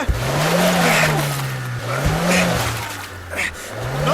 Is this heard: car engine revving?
yes